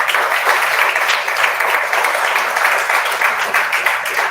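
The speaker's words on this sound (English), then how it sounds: "Give them a big round of applause." An awards-ceremony audience breaks into sustained applause, dense and continuous clapping from many hands that holds steady at moderate volume throughout.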